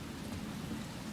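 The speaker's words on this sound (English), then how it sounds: "Raining really hard." Heavy rain pours steadily in the video game Resident Evil 2, a dense, even hiss of downpour that holds at a constant level throughout, with no voices.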